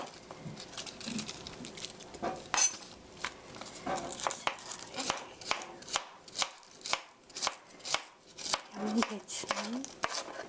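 Knife chopping cabbage finely on a board for a meat sauce rice bowl, a rapid run of crisp, close taps that grows steadier and more rhythmic, with a voice speaking intermittently over it.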